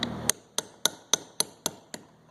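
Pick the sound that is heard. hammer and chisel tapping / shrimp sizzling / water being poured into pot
hammer and chisel tapping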